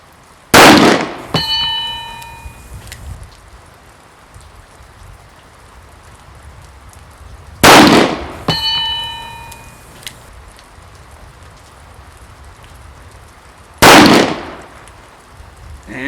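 Smith & Wesson Mountain Gun revolver firing .45 Colt rounds at a range: three loud, sharp gunshots spaced several seconds apart, each with a ringing metallic tail and quiet background between.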